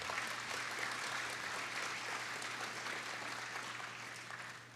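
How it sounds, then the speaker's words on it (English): Steady applause from a conference audience for a panel of speakers at an AI summit mainstage, a continuous wash of clapping that holds level and eases off slightly toward the end. "So give them a round of applause."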